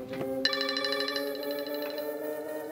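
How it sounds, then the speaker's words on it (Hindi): Phone ringtone for an incoming call, a bright repeating electronic melody ringing clearly and steadily for a few seconds without speech. "ये इस वक्त फोन क्यों कर रहा है?"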